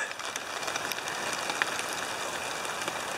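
Steady rain falling in mountains on the Fryatt Valley Trail, a dense even hiss of drops pattering on surfaces with no pauses.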